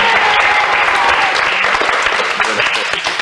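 A studio audience claps and applauds steadily on a French children's TV show set, a dense, loud wash of hands that carries on for the whole stretch.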